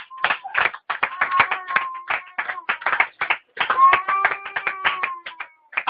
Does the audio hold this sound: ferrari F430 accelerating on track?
no